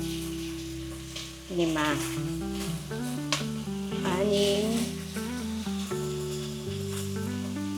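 Chicken pieces sautéing in a pan for tinola, a steady loud sizzle with crackling bursts as they are stirred, while a person talks over it.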